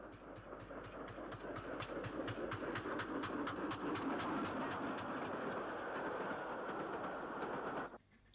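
A steam locomotive, an LMS 4F, rolls past hauling a local stopping train near Bristol, UK, steadily with rhythmic clattering and a rushing roar, building then holding before cutting off abruptly near the end.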